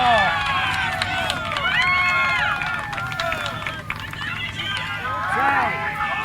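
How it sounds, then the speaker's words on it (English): Loud cheering and shouting rise from a neighbouring game at a beep baseball world series, overlapping voices swelling and falling outdoors while people talk nearby. "A little loud cheering."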